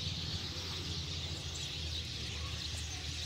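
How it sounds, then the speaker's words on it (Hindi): Hundreds of sparrows gathered in eucalyptus trees in a village at evening chirp together, a dense, unbroken chorus of high twittering that fills the whole stretch at steady volume. "ये सफ़ेदे के दरख्त हैं, इन पे बहुत ज़्यादा चिड़ियाँ इकट्ठी हुई हैं और बहुत ही खूबसूरत आवाज़ है इनकी चहचहाने की।"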